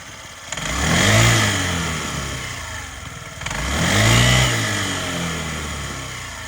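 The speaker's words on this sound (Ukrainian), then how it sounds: "Чудово, прекрасно, ідеально працює двигун, без зауважень." A Honda Tact AF75 fuel-injected four-stroke scooter engine runs close by with a steady putter, rising twice in smooth revs before settling back to idle.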